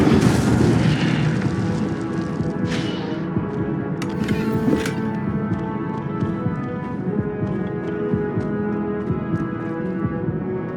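Incendio fire spells cast in Hogwarts Legacy, a burst of booming, rushing flame with crackling bursts that decays into a lingering low rumble and scattered sharp impacts.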